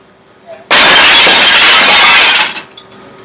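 A pane of glass smashed with a brick, one loud sudden shattering crash that sprays and rings for under two seconds before dying away into near silence.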